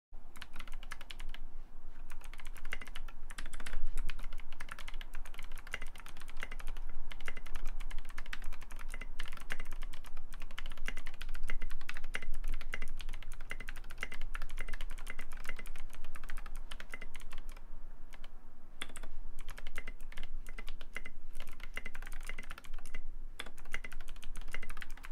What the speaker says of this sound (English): this is SA keycaps. Clicky switches.